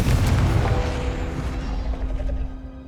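Confringo fire-spell blast in the wizarding game Hogwarts Legacy: a deep booming explosion at the start that rumbles and slowly fades over a few seconds, no voices.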